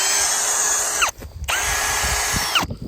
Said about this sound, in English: The nice thing is you can just use your cordless drill